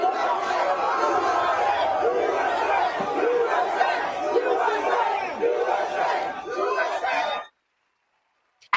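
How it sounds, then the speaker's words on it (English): A large crowd in New York City chants USA in loud, rhythmic unison over general crowd noise, then the chanting cuts off abruptly into silence. "And as POTUS walked through the crowd, chants of USA went up."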